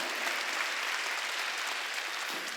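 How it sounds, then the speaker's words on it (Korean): Church congregation at a Korean Wednesday worship service breaking into applause, a dense, even wash of clapping from many hands that holds steady throughout. "박수 치라니까."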